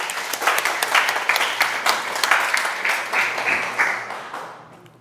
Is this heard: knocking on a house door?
no